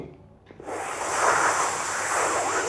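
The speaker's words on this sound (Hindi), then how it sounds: "तो उस प्राण को जीवा के माध्यम से खींचते हैं कुछ यूं" A long, forceful in-breath drawn through the tongue in yoga breathing, starting after a brief quiet moment and holding as a steady, close airy rush until the end.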